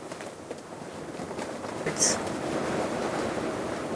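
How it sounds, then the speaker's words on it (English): Strong wind roars steadily across the microphone on open Montana antelope country, a broad rushing noise that swells briefly midway, with something like distant surf underneath. "all of a sudden it's just getting crazy windy"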